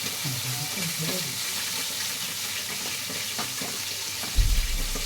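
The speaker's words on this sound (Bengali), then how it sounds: "এবার আমি ভালো করে নাড়াচাড়া করে নেব" Cumin and spices fry in a pan with a mustard paste while being stirred, giving a steady close sizzle with soft scraping, ending in a brief louder low thump.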